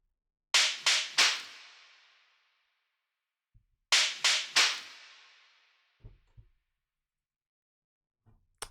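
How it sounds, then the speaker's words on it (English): Clap percussion sample from a dark techno track, sharp and close, played as two groups of three quick claps, each with a short decaying tail, separated by silence. "It's this clap"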